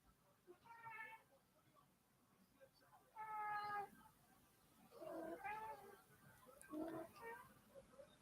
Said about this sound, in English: you could probably hear the cat